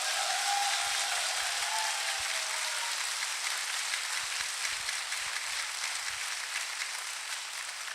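An audience at a motivational talk about leadership applauds: dense, even clapping that sounds like steady rain, sustained for several seconds without a break.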